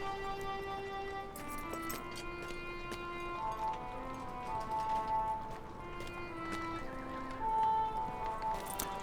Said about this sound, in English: get my horse to walk, so it's a little slower.